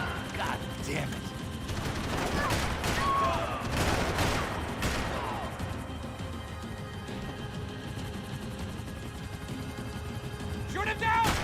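In Max Payne 3, bursts of gunfire and mechanical clatter sound over a dense, loud mix of game noise, with people talking and shouting over the action for much of the time.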